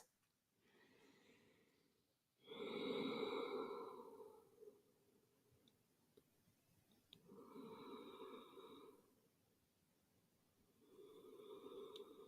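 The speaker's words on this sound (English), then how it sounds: "Take 3 big breaths." Three slow, deep breaths during a yoga session, each a long audible inhale and exhale through the nose and mouth, close and clear with quiet pauses between them.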